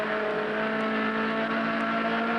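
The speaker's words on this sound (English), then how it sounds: "About a 110 mile an hour, 180 degree sweeper, accelerating out of the turn." A Trans-Am race car accelerates out of a 110 mph, 180-degree sweeper on the freshly resurfaced road course at the Glen, its engine a loud, steady, close droning roar throughout with no talk.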